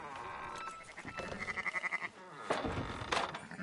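Sheep in the video game Red Dead Redemption 2 bleat close by in a couple of wavering calls, one with a quick trembling pulse, over faint ambient game sound.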